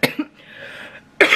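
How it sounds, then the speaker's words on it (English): A quick double cough close to the mic, then a short pause and another harsh cough burst. "We all cough"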